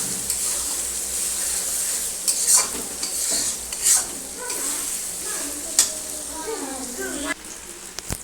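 Tomatoes fry in a pan for ghugni while being stirred, with a constant sizzle and several pronounced scraping strokes and clanks against the pan, fairly close.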